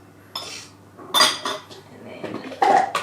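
Mashed banana and egg whites stirred in a bowl, with a few close clinks and scrapes of utensil against the dish coming in short bursts.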